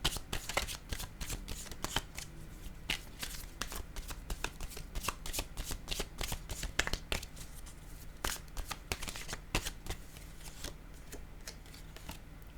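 A deck of cards shuffled continuously for several seconds, dense rapid riffling and snapping clicks, close and steady, with no talking.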